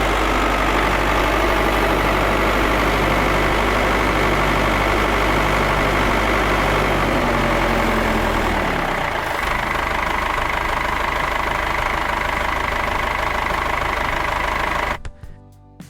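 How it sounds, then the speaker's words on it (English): A John Deere 50 tractor engine runs on a freezing morning, a loud low knocking idle with a steady rhythmic chug that drops to a lighter rumble about halfway through, then cuts off abruptly at the end. "The John Deere 50 faced the morning freeze like a soldier. Cold bit hard, but it fired up."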